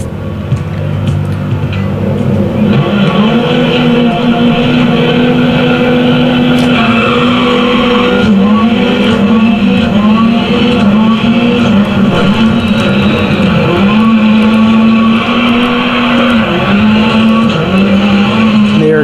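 A rally car tears through a Dirt Rally Rally X race in the video game, its engine loud and constant, revs rising and falling through gear changes with tire scrabbling underneath, close and continuous.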